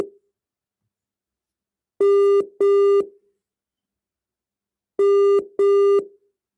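A telephone busy signal is heard while a phone call is being returned, with two pairs of loud, steady electronic tones, each pair followed by silence.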